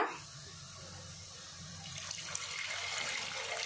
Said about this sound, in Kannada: ನಾನು ಒಂಜಿ ಕಪ್ಪದಾತು ನೀರು ಪಾಡಿಯ